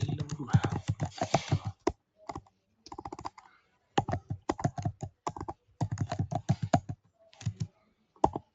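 Typing on a computer keyboard, irregular bursts of clicking keystrokes with short pauses between runs, fairly close and alone without talk.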